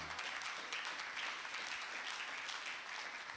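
A church congregation breaks into steady, dense applause that fills the whole stretch evenly, loud and close with no speech over it.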